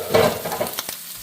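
Chopped garlic frying in hot grease in a pot, a brief burst of sizzle with stirring scrapes, close and moderately loud, fading after about a second.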